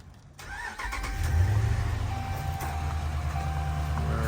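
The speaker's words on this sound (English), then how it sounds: "Let's just start her up one last time." A 2012 Dodge Ram with a 5.7L HEMI V8 cranks briefly and catches, then settles into a loud, steady, close idle rumble.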